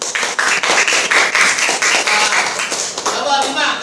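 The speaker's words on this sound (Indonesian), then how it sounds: "Oke, tepuk tangan." Quick, lively clapping from a classroom of children, a burst of rapid claps with voices mixed in.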